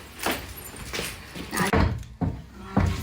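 A slow-closing door in a home is swung shut, producing a series of soft thuds and knocks spread over a few seconds, ending in a heavier close.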